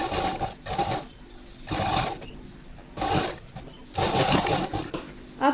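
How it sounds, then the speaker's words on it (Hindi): A sewing machine stitching a kurti panel, running in four short whirring bursts of rapid needle chatter separated by pauses, fairly faint and close. "आप इस फुट के अकॉर्डिंग डिस्टेंस रखते हुए आप इसे सिलाई लगा सकते हैं।"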